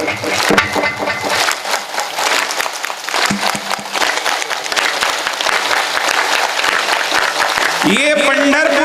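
An audience claps along during a kirtan in rapid, rhythmic unison under a leader's amplified voice, with a sustained tone entering near the end.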